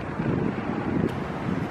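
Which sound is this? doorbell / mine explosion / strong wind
strong wind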